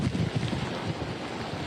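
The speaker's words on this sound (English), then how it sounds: "The winds here, wind gusts, I'm told, are over 100 miles an hour." Hurricane Idalia's wind gusts over 100 mph battering an outdoor spot in Perry, Florida, a loud continuous roar with rough, buffeting microphone rumble throughout.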